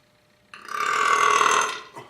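A man lets out a long, loud, rumbling burp after drinking cold Pabst Blue Ribbon beer, one continuous belch lasting over a second that swells and fades, close to the mic with no talk.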